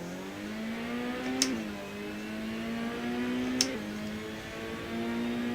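A loud race car engine in the Assetto Corsa racing game holds a steady, buzzing drone, with its pitch rising and dropping through a couple of gear shifts and no voices over it.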